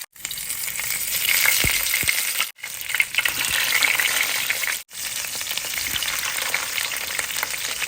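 Four masala-stuffed bitter gourds fry in a pan, giving a steady, close hiss of sizzling oil. Two short breaks interrupt the frying, and it resumes each time.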